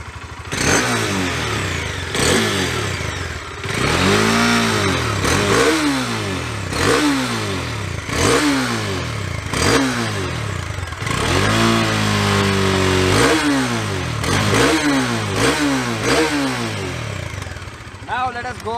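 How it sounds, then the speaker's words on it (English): A Bajaj Dominar 400 motorcycle engine starts and is revved repeatedly, loud rising and falling throttle blips over a rumbling idle, heard up close. "Let me crank this motorcycle up for you and let us check this out."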